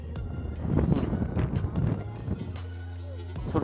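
Strong gusts of wind buffet the microphone on an exposed mountain, roaring in uneven surges with faint bumps and rustles, close and loud throughout.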